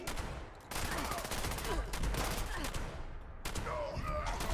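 Combat rifle fire in Fallout 76, rapid bursts of loud gunshots cracking in sustained volleys with brief pauses between them, reverberant game combat audio with faint voices mixed in.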